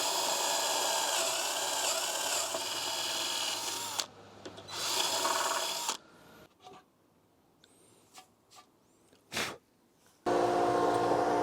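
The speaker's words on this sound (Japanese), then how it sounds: "ダボ穴の両サイドにポケットホールを開けていきます。" A drill bores pocket holes through cafe-board wood held in a Kreg pocket hole jig, with loud, steady whirring bursts separated by quieter pauses filled with brief knocks and clicks.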